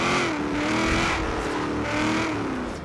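A Nissan 240SX drifts in Forza Horizon 3, its engine revving loudly and steadily with pitch swings up and down, and tire squeal mixed in close up. Nobody speaks.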